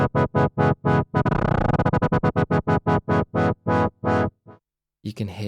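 Modal Argon8 synthesizer playing a repeated bright harmonic note with LFO modulation, a rapid regular stutter of pulses that speeds into a dense buzzy burst, then evenly spaced hits that thin out before a pause and brief voice.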